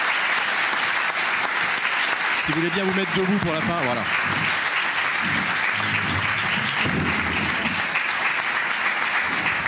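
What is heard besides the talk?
audience applause for the guests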